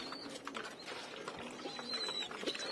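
Pigeons coo softly in a loft where young birds are being raised, with faint chirps and small clicks over a steady low hum, fairly quiet throughout.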